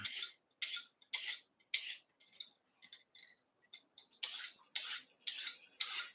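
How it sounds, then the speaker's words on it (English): Repeated rhythmic scraping strokes of a peeler running along a vegetable, about a dozen crisp swipes close up, some lighter, with no talking. "I'm just gonna peel it extra"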